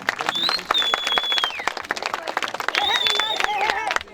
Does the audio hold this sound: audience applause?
yes